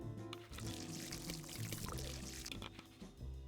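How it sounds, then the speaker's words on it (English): Liquid drained from a car pours steadily into a container, a continuous close splashing stream for several seconds. "Can I pour it into this? Should I pour it into this?"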